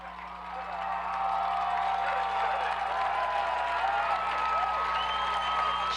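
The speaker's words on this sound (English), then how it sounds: "Stripe-Haven's crowd is right back into it" Home crowd at a Strath Haven high school football game against Ridley cheering and clapping, a broad distant wash of applause and shouts swelling after the first second and holding steady.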